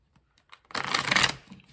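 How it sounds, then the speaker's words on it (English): A deck of tarot cards being shuffled, one quick riffle of fluttering card edges lasting about half a second after a few faint taps, close and moderately loud. "one of the drawbacks is it takes a long time to shuffle"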